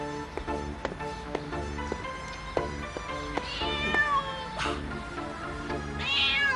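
A cat meows repeatedly in a Turkish comedy scene, the cries rising over a continuous musical background, fairly close and clear, with several distinct meows toward the end.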